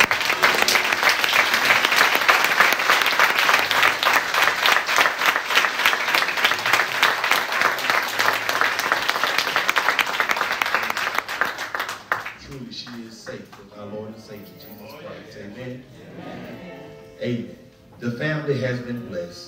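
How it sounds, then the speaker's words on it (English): Sustained audience applause at a church home going funeral celebration, a loud, dense wave of clapping for about twelve seconds that then fades, followed by quieter voices and a brief swell of sound. "please join me in giving her memory a round of applause at this time"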